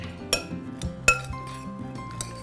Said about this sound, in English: We'll just kind of give this a stir, kind of mix it all up,